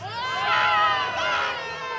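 A wrestling crowd at a Vancouver Convention Center show roars and cheers loudly, with massed voices and shouts rising and falling in two swells.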